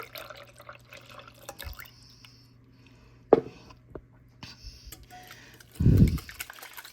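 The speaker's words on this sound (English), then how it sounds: "Now I have my 2 cups of milk going in." Two cups of milk poured into six whisked eggs, a soft liquid gurgle rising near the end among faint kitchen clinks and a brief tap, fairly quiet and close.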